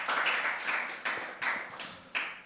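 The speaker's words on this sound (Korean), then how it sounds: "박수." Applause for a student at a church youth Christmas service comes as a few rhythmic, sharp claps, each a short bright burst that fades before the next, fairly close and with no talk.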